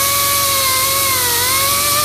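An aluminum ring for 2015 Silverado A-pillars is buffed with a power buffer and buffing compound, producing a loud, steady high-pitched whine with a slight wavering in pitch throughout.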